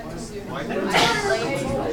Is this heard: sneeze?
yes